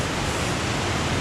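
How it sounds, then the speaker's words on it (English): A small waterfall in a cave area gives a steady, dense broadband rush of falling water, close and continuous with no breaks and no voices. "there's a little waterfall there"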